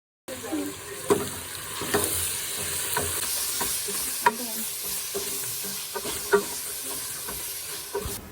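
Tomatoes, garlic and spices for biryani frying in a pan, a steady close sizzle and hiss broken by repeated scraping knocks of a spoon as they are stirred.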